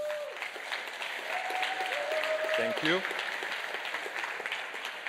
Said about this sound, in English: I would like to ask you to make one applause for them